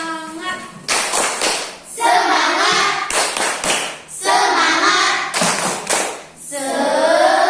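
A classroom of children claps together in the rhythmic 'tepuk semangat' chant, with sharp clusters of claps alternating with sung or chanted voices in repeating patterns, loud and close.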